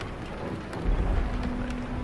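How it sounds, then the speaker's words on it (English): Rain falling at night in the video game Dying Light, a steady soft hiss of rainfall with low rumbling underneath, continuous and moderately quiet, with no talk. "It's raining. It rains quite often at night."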